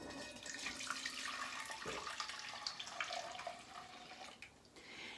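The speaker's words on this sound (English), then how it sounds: "can pour the juice right back into that pot" Elderberry juice is poured back into a cooking pot, heard as a continuous quiet splashing, trickling stream with small gurgles and drips, with no voices.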